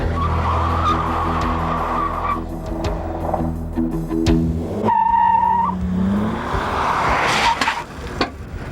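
Tires squealing and skidding on a GM car during a hard test drive, with a loud engine drone throughout and a sharp high-pitched screech partway through.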